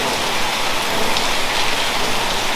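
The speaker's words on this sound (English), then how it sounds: "at least I won't be getting rain inside anymore" Heavy rain drums steadily on a roof, a loud, dense, unbroken hiss with no voices.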